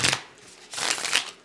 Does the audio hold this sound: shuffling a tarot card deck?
yes